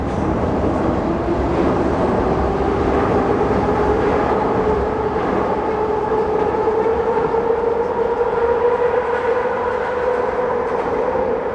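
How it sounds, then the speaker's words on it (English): A train rolls past in Kensington, a loud, continuous rumble and roar with a rising tonal whine from the wheels, close by and steady throughout, with no speech over it. "let me just wait for this train"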